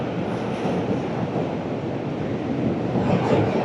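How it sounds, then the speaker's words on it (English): A train rumbling over a bridge on the Brooklyn waterfront in New York City, giving a steady, loud, continuous roar with faint rail clatter and wind, and no talk. "Train going over."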